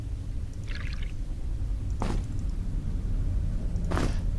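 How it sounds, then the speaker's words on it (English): Water flask being refilled in Legend of Grimrock, played through a Dungeon Master remake mod: two short splashy bursts about two seconds apart, plus a faint earlier trickle, over a steady low rumble. "let's refill our water flask"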